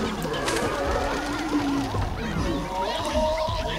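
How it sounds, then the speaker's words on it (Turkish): Zombie chickens from the Plants vs Zombies 2 video game cluck and squawk in a steady stream over busy, warbling game music and effects, with no break across the stretch. "Ana, zombi tavuklar tarafından yendik."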